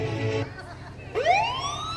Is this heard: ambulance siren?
yes